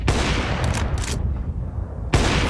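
A loud AWP sniper rifle shot in Counter-Strike, a sharp blast at the start followed by a decaying tail, then a second burst near the end.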